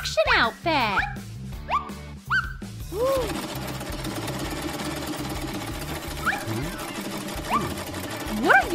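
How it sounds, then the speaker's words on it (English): A sewing machine stitches a construction outfit, running with a fast, even mechanical rattle that carries on loudly after a burst of excited voices at the start. "My sewing machine is always there for me!"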